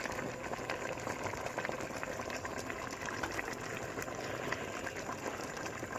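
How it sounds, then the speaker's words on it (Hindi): Ghee added to a pot of beef korma bubbles and seethes in a continuous, dense, fairly quiet rumble with no clear breaks. "अब मैं इसमें घी ऐड करूँगी।"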